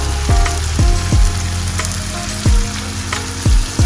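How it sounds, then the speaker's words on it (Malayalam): Ground mustard and fenugreek go into a boiling Kerala white mango pickle, which gives a loud, close bubbling sizzle. Repeated gurgling pops break through at uneven intervals, and no one speaks. "നമ്മൾ നേരത്തെ പൊടിച്ച് വെച്ചിരുന്ന കടുകും ഉലുവയും കൂടെ കൂടി ഇതിലേക്ക് ഇട്ട് കൊടുക്കുകയാണ്"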